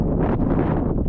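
Wind buffets the microphone in a steady, close rumble on the summit of Ryan Mountain in Joshua Tree at sunrise. Nobody speaks.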